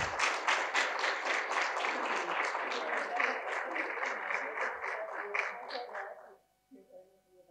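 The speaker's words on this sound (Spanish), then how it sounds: "Un fuerte aplauso también para Iris." Sustained audience applause at a book launch, dense and steady clapping from many hands for about six seconds, then fading out abruptly into quiet.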